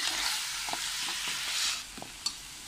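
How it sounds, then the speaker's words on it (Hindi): Mutton fries in oil in a karahi, giving a soft, steady sizzle with faint stirring knocks and scrapes scattered throughout, no voices over it. "गोश्त शामिल करेंगे, इसको मैं कलर चेंज होने तक फ्राई करूँगी।"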